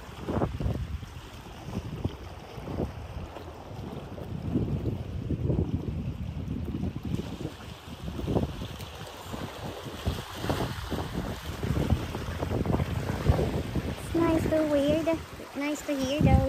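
Sea waves wash on the shore at Staffin on the Isle of Skye, a broad rushing surge under strong wind buffeting the microphone, with people talking over it.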